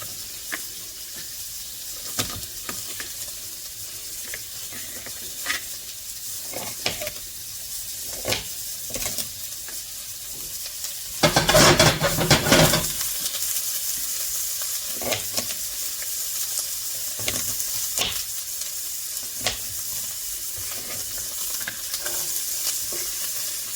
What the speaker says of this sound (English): I'm just gonna cook the pasta in the broth in the pan